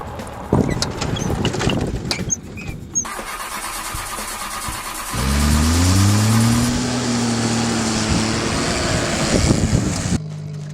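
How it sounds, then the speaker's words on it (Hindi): A car engine cranks and catches, then settles into a steady running idle that fills most of the clip, loud and close, with clatter and rustling before it starts. "ये गाड़ी ऐसे ही स्टार्ट होती है"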